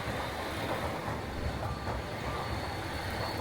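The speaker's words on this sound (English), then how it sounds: "The train you can see now, by the way, is the Super Hakuto." Steady rumbling of a Super Hakuto express train rolling past at Tottori Station, Japan, a continuous broadband roar with faint metallic hiss, close by and fairly loud throughout.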